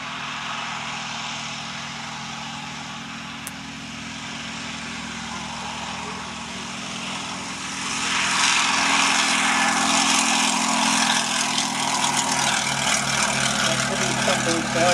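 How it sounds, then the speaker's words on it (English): Westland Lysander with its 870 horsepower Bristol Mercury 20 nine-cylinder radial engine at an air show, a steady propeller drone that grows noticeably louder halfway through as the aircraft approaches from the left. "an 870 horsepower Bristol Mercury 20 engine, a 9-cylinder radial, coming in now from the left"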